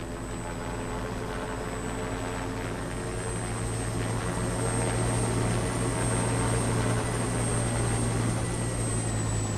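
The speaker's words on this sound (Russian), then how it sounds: "Вертолеты летят." Helicopters flying overhead in the Parasite Eve video game, a loud, steady rotor drone and engine whine that holds constant throughout, with no speech.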